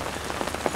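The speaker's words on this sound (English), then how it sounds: "this is the rain on April the 2nd" Steady rain falls in a back yard in April, a dense even patter on surfaces with a few louder drops standing out, close and continuous with no voices.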